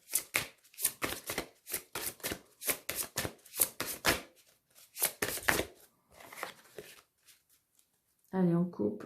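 Tarot cards riffled and cut by hand, a rapid series of crisp flicks and slaps in bursts, close and clear, with a brief voice speaking at the very end.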